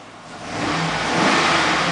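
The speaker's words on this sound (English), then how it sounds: "that's just me revving the engine" A 2006 Chevy Express passenger van engine revs up from idle, the mid-pitched engine note climbing and holding at higher revs, heard close and alone without talk.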